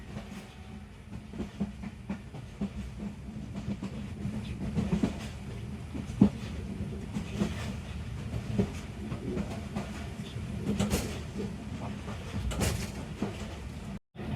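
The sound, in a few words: passenger train running on the Pakpattan–Kasur railway line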